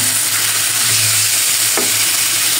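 Fried garlic and onion tempering hits cooked taro leaves in a pan, giving a loud, continuous hissing sizzle close up, steady throughout with one brief clink of a utensil.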